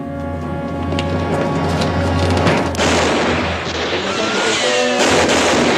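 Loud gunfire from a western film shootout, with several sharp booming shots over a dense, rumbling soundtrack, closer blasts standing out near the middle and toward the end.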